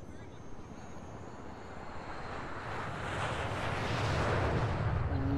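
An airplane engine drones steadily and grows louder as it builds to a broad roaring rush in GTA V, with voices chatting faintly beneath it.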